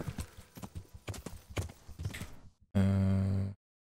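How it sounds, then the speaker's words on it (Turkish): A horse summoned in Kingdom Come: Deliverance arrives with a loud, sustained burst of sound near the end, after a stretch of soft game ambience and scattered clip-clop-like thuds. "Neyse dur ben bir çıkayım da atı da çağırırım. At gel."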